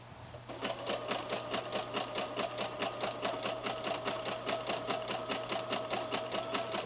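A sewing machine runs steadily, stitching a sweatshirt seam with a backstitch at the start, its needle clattering in a fast, even rhythm with a low motor hum underneath, close and continuous throughout.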